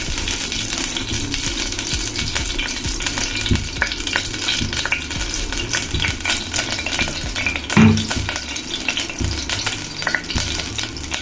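Oil heats in a pressure cooker on a stove while mutton curry is being made, giving a steady, close crackling sizzle with light rattles and one brief louder clink near the end.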